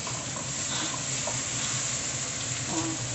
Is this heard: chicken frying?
yes